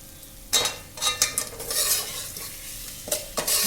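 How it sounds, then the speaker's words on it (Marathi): Boiled eggs sizzle in masala in a hot pan as egg biryani is made, while a spoon stirs and scrapes through them. The clatter comes in repeated bursts over a steady frying hiss, close up and without talk. "चांगलं परतून घ्यायचं आहे"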